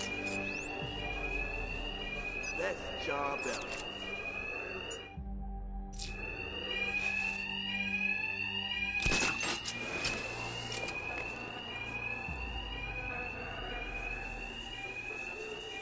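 An alarm rings in a Batman video game, a repeating rising electronic wail that cycles through the clip amid loud impacts and scuffling, with a brief spoken line.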